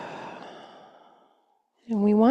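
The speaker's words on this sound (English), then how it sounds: "exhaling fully, letting every bit of that breath out" A long, slow exhaled breath fades gradually to silence, followed by the onset of a calm voice speaking.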